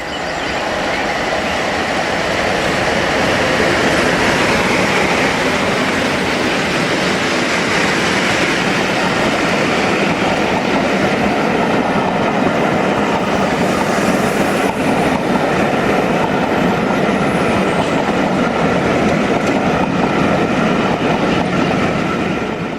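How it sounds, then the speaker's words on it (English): A pair of Type 2 diesel locomotives, Chimera and Minotaur, haul a Green Express charter from Skipton to Carlisle, a loud sustained roar of engines and rolling wheels with rhythmic rail clatter, close and continuous. "Two more Type 2s from the Fragonset stable, Chimera and Minotaur, work a Green Express charter from Skipton to Carlisle in 2002"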